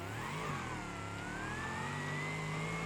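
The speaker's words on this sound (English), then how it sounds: "Probably because the engine's getting bogged down." An all-wheel-drive muscle car engine in BeamNG Drive drones under heavy load, bogging down with a steady, strained mid-pitched roar that climbs slowly in pitch, continuous and close with no talk.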